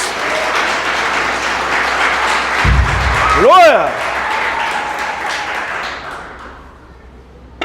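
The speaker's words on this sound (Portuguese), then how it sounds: "Então dá uma salva de palmas aí em nome de Jesus." Congregation in a church service bursts into applause, a loud sustained clatter of many hands while a voice shouts over it, then the clapping fades out toward the end.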